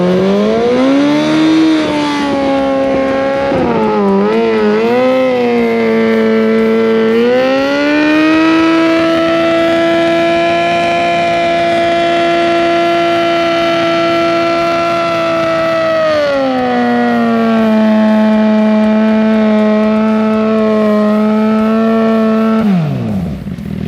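A motorcycle engine on a fully built bike with a 13,500 rpm redline revs up toward about 9,000 rpm, a loud, continuous wail that rises, holds high, eases slightly and cuts off near the end.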